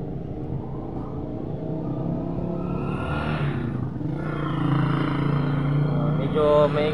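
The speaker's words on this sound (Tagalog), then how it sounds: "maingay po rito sa labas kasi dumadaan nga ng tricycle na sa kalsada" Tricycles pass on a road outside near a park, a continuous motor rumble that swells and fades as vehicles go by, with a brief rattle near the end and a voice speaking over it.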